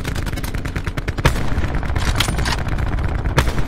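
Rapid gunfire in the battle royale game Call of Duty Blackout, dense repeated shots with a few louder bursts running continuously, with faint speech mixed in.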